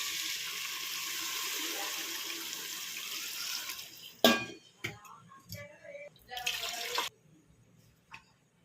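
Water is poured from a vessel into fried chicken masala for biryani: a steady rushing pour lasting about four seconds, then a few clinks and clatters of cookware, near and moderately quiet.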